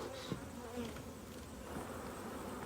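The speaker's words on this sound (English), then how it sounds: "Now there's a lot of bees going to come out of this guy." Honey bees pouring out of an opened hive box during a hive check, a dense, steady buzzing swarm with individual bees whining past close by, continuous and fairly quiet throughout.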